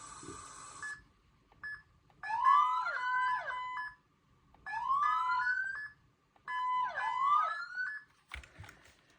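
A wailing electronic emergency vehicle siren in the video game Liberty County sweeps up and down in three repeated bursts with short pauses between, loud and clean, ending with a brief clunk.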